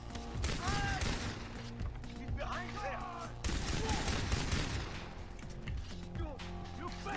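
Pistol shots in the video game Far Cry 3, a busy run of sharp reports stacked over dense game noise, explosions and background music, with talk mixed in.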